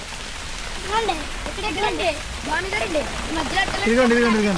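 Rain patters steadily on a tarpaulin camp pitched in a cashew orchard at night, a broad wet hiss under a voice talking throughout.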